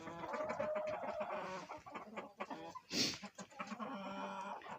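Chickens cluck in a barn, a busy overlapping chorus of clucks and short calls close by, with one sharper squawk in the middle and no human talk.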